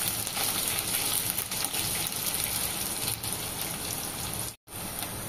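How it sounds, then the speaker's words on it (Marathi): Onion and curry leaves sauté in a pan, giving a continuous close, rain-like sizzle with a brief cutout near the end. "कांदा थोडासा परतून घेऊया।"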